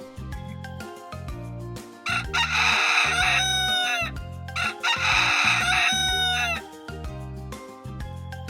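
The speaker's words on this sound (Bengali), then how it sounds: "এটি একটি মোরগ। মোরগ কুকুরকু" A rooster crows loudly twice, each long cock-a-doodle-doo rising over bright, bouncy backing music that plays continuously before, between and after the calls.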